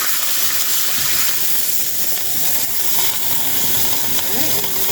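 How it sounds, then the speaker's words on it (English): A beef roast searing in hot olive oil in a frying pan gives a loud, dense, continuous sizzle and hiss close up, with faint voice-like sounds under it. "So I'm just going to put it in here and I'm going to let it sear real quick."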